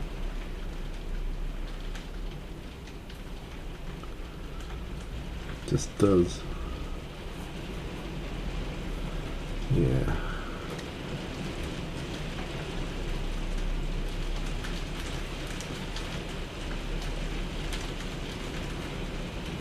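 Steady heavy rain drums down outside a workshop in an even, constant wash, with a couple of brief quiet spoken words partway through.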